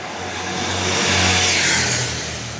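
A motorcycle engine revs and swells as it passes close by on a street in Dubrovnik, Croatia, a steady mid-pitched roar peaking midway then easing off.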